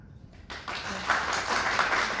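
A brief burst of audience clapping at an Outlander discussion panel at San Diego Comic-Con 2019 rises after a quiet start and keeps going, moderately loud with some cheering mixed in.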